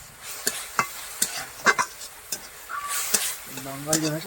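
Mustard leaf paste fries and is stirred in a pan, a soft sizzle under repeated sharp scrapes and clinks of a spatula against the pan, close by, with a bird crowing faintly at the end.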